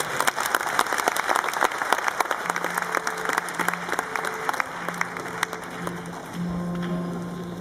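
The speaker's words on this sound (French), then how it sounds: "On peut applaudir encore une fois." Conference audience at a session on the global economy and financial markets applauding steadily, a dense wash of many hands clapping that fades slightly toward the end, with a low steady tone running beneath.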